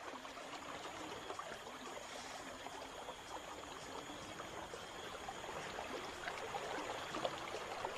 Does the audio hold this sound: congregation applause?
no